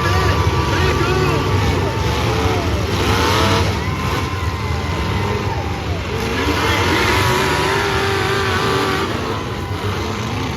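Demolition derby cars rev their engines at the start of a destruction derby in Amador County, a loud, continuous roar of several motors with rising and falling revs under crowd and announcer voices.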